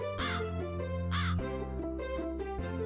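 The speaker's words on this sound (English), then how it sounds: "Treats for the crows." Crows caw twice in quick succession, harsh and loud, standing out over soft continuous music.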